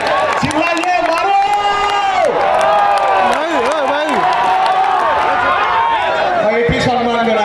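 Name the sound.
cricket spectators clapping and cheering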